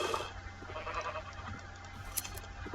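Sheep in the video game Minecraft give a few quiet bleats over a faint, steady in-game background, with brief pauses between calls.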